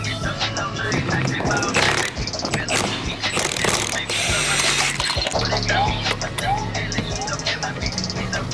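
A ratchet wrench backs a bolt out of a car, a K24-swapped Honda S2000, with rapid clicking bursts and metallic clatter, close and loud, over background rumble.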